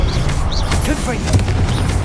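Spell explosions from the Hogwarts Legacy Confringo fire spell ring out as dense, repeated booming bursts amid steady battle noise, with a voice-like layer running underneath.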